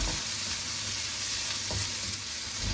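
Garlic and ginger sautéing in a pan, a steady close sizzle and fry with faint stirring scrapes throughout, no voices.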